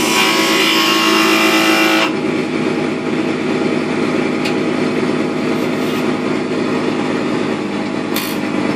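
Wood lathe spinning an oak door stop as a skew chisel cuts, a steady loud whirring hum with a harsher cutting scrape in the first two seconds, then a continuous drone with faint ticks.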